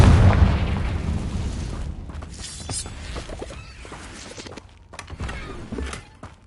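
A Confringo blast spell in the video game Hogwarts Legacy, a heavy booming explosion that rumbles low and fades, followed by scattered crackling pops and bursts, loud and without speech.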